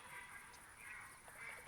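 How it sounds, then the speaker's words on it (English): Faint, distant quacking from a flock of mallard ducks in the game theHunter Classic under a steady hiss of background noise, with a few soft calls overlapping. "you can tell by their sound, they are mallards."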